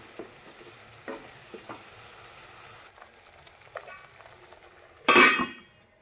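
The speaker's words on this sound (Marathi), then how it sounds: "हा पण मसाला बारीक गॅसवरती एकदम 10 मिनिटं परतून घेऊया." Masala sautéed on low gas for a curd okra dish gives a faint, quiet pan sizzle with a few soft spatula scrapes and taps, ending in one loud bright clink of metal near the close; no voices.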